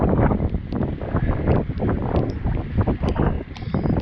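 Storm wind gusts hard around an anchored boat in the bay, a loud blustery roar buffeting the microphone, with irregular knocks and rattles on board and no voices.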